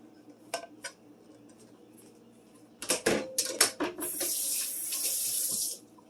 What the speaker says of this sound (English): Went ahead and rinsed my board and washed the knife